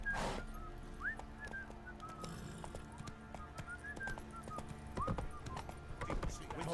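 Horse hooves clip-clop at a steady pace in The Witcher 3, set against ambient game music with whistling and a brief whinny. Someone speaks over part of it.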